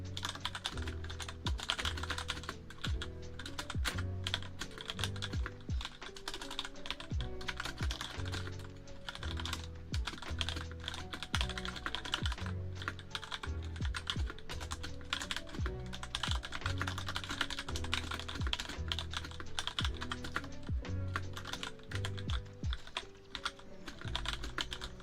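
Fast, continuous typing on a computer keyboard during a one-minute online typing test, with dense rapid key clicks close by and steady rhythm throughout.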